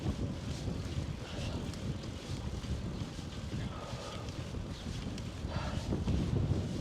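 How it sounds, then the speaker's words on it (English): Strong headwind buffets the microphone in a steady, loud low rumble while cycling along the Ohio to Erie Trail near Columbus, swelling slightly toward the end, with no one speaking. "Mother Nature isn't helping any, because I still have a strong headwind."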